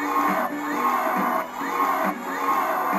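A synthetic crowd groaning in disappointment, a sound effect from the Wii game Zone 40, repeating in several sustained swells of massed voices, loud and close.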